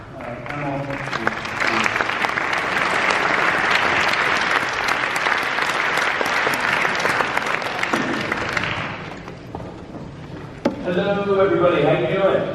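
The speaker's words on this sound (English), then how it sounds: "Let's give them a round of applause." A conference audience applauds panelists after a discussion on humanist approaches to artificial intelligence, broad steady clapping filling the room for about nine seconds before fading, then a voice begins speaking at the end.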